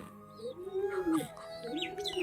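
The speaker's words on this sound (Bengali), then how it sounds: "আমার এই পায়রাটাগুলো সব বাইরেই ঘুরে বেড়াচ্ছে" Pigeons coo softly outside with low, rolling calls close by, and a few faint chirps mixed in over a quiet background.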